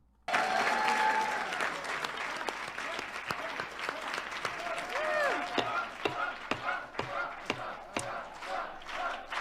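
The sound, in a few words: audience applause at a hearing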